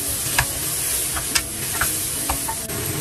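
Tomatoes stir-fry in a hot pan with a steady loud sizzle, broken by several sharp scraping clicks from a spatula stirring through the food at a few irregular moments.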